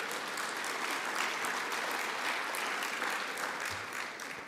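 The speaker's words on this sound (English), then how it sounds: "Oh, there's a clap." An audience at a natural resources forum in British Columbia breaks into sustained applause during a premier's speech, a dense even patter of many hands that holds steady for several seconds.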